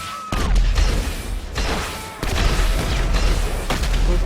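Rocket-launcher explosions in the game GTA V: two loud, heavy booms about two seconds apart, each a sharp blast trailing into rumbling debris and crackle, with no talk.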